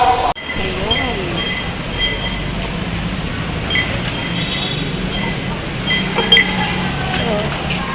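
A light rail LRT train running, with steady rumbling rail noise, faint metallic clinks and squeals, and a moving carriage interior filling the whole stretch after a brief opening moment; people talk quietly in the background.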